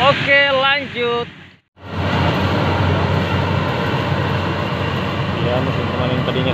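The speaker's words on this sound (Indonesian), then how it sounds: "Ya, mesin pemanen tadinya sudah mengelilingi." Yanmar YH 850 combine harvester running in a rice field, a steady broadband engine and machinery drone filling the background after a brief drop, with a voice talking at the start.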